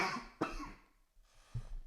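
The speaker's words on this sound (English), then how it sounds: "Excuse me, chronic cough." A chronic cough: two harsh, close coughs about a second apart, the first loud and the second shorter, with no talking.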